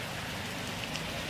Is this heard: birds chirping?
no